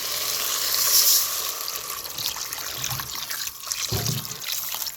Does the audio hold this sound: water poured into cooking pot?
yes